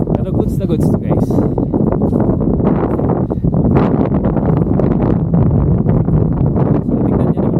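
Strong wind buffets the microphone on Mt. Olis in Atok, Benguet, a loud, constant low roar under a person talking.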